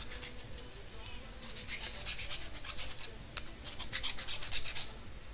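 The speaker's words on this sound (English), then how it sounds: "Not even a massive fan of the sound of sanding." Steady hand sanding nearby: rough, raspy scraping strokes repeat in an uneven rhythm over a quiet room.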